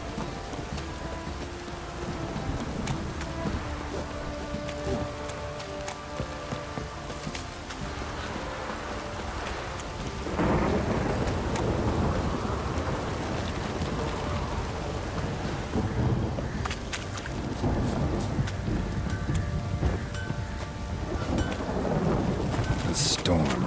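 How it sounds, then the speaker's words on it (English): Steady rain pours with rolling thunder during a storm near a swamp in The Witcher 3, a video game, the downpour growing heavier partway through, with deep rumbles and faint voices beneath. "The storm, damn it."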